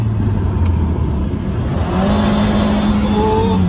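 A DC Avanti sports car engine idles with a steady low drone, then revs up into a higher, steadier tone, heard close and moderately loud with no talking.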